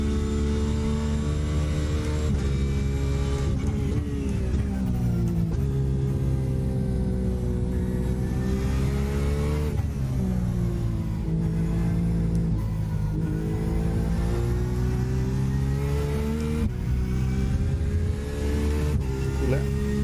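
Race cars in a racing sim roar with a constant engine drone that rises and dips with the revs, with an LMP2 prototype closing in behind a GT car. The engine noise is loud and unbroken throughout.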